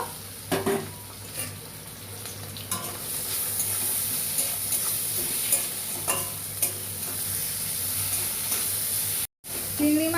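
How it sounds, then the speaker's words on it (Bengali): Prawns fry in hot oil in a wok, a continuous close sizzle broken by intermittent stirring scrapes, with a brief dropout near the end. "চিংড়ি মাছটা ভেজে তুলে নেবো"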